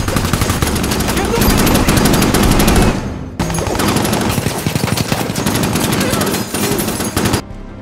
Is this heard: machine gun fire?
yes